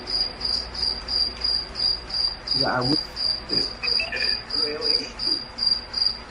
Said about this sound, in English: No matter how much I talk, I always hear crickets around me.